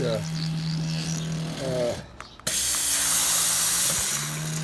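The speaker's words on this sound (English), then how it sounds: "As you can hear, look, steam coming out" An Iti espresso machine lets out steam in a loud, broad hiss that starts abruptly and holds steadily, with a low hum of the machine running before and after.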